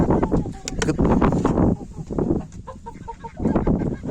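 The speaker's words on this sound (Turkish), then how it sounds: "Daha kavga ettikten sonra ötemiyor, ötmeye çalışıyor, tavuk çağırıyor." A six-month-old rooster, worn out after a fight, makes strained, broken attempts to crow along with clucking calls to hens. The bursts repeat close and loud, with another bird's clucks in between.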